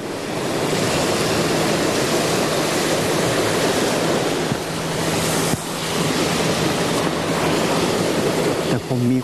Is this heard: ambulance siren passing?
no